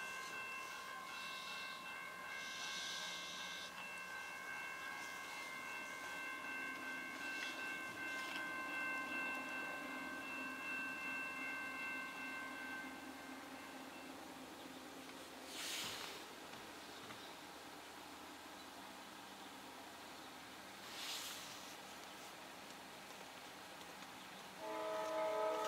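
A CSX westbound intermodal freight train on the Willard Sub at Fostoria, Ohio, led by a single locomotive, rolls past with a steady rumble and sustained horn tones, two sharper bursts near the end, no talk.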